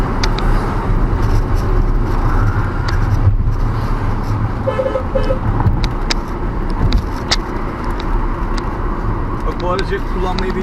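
A 2011 Volkswagen Jetta 1.6 TDI taking a curve at high speed, with steady road and engine noise rumbling throughout, a brief horn-like tone in the middle, and a voice talking over it.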